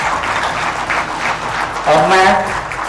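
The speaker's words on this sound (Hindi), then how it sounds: "माननीय मंत्री का जोरदार तालियों से स्वागत किया जाए।" Audience at a ceremony for the Jharkhand Administrative Service Association clapping to welcome a minister, a steady crowd applause with a voice talking over it partway through.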